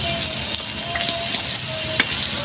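Steady, close frying sizzle from a pan, a dense crackling hiss with faint tonal whines and a couple of brief utensil taps.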